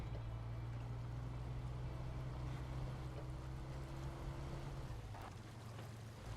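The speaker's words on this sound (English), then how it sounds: "That's the easiest way to not get the engine sound over my voice." Truck engine in the video game Snowrunner, a steady low drone that drones on loud and unbroken, with a faint rising whine partway through and no voices over it.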